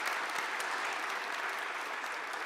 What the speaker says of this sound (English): join me have another round of applause for our participants and also panelists.